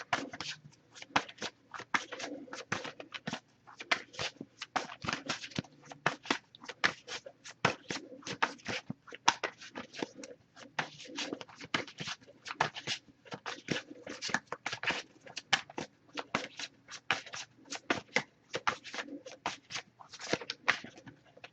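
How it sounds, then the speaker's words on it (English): A tarot card deck is shuffled by hand for about twenty seconds in a continuous run of soft, rapid slaps and riffles, close and alone. "if I shuffle for a while without anything coming up, I'll just put the deck down and pull a card that way"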